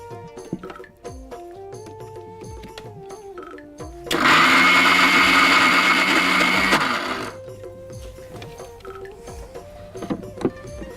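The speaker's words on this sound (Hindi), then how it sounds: "सबसे पहले मैं मिक्सी की तरफ जाऊंगी। हाँ, और इसको पेस्ट करके लाते हैं।" A mixer grinder roars loudly for about three seconds, blending a white chickpea paste, then cuts off, with quieter background noise before and after.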